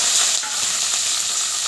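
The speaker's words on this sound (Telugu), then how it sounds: "మనం ఉల్లిగడ్డ, పచ్చిమిరపకాయలు, కరివేపాకు కూడా వేద్దాం" Onion, green chillies and curry leaves fry in hot oil for a Telugu amaranth-leaf dish, giving a steady, close, loud sizzle with light stirring scrapes and no voices.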